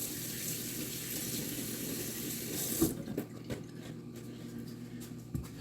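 Kitchen faucet running steadily as a hand is rinsed under it, a close broadband water rush that cuts off abruptly midway, leaving faint handling clicks and room quiet.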